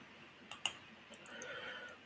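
Several sharp computer mouse clicks, two close together near the start and a few lighter ones after, sounding over quiet room tone while someone edits in Google Drawings.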